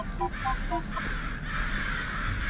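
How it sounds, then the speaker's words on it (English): Crows caw several times in quick repeated calls, played as a sound effect during a tabletop role-playing game, with a low background hum and table talk around them. "You start to hear crows."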